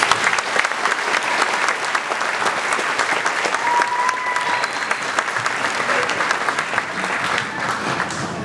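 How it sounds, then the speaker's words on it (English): An audience at a school Year 6 graduation ceremony applauds, a dense, steady wash of clapping from many hands that carries on loudly and evenly throughout. "We can just give another round of applause."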